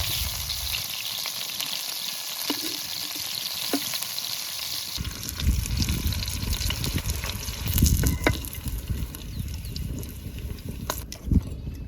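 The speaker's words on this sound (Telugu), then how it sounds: "ముక్కలు అయితే మంచి గోల్డెన్ చేస్తాడు" Fish pieces fry golden in hot oil in a village kitchen, giving a loud continuous sizzle that grows louder and more crackly partway through, with occasional spattering pops and stirring.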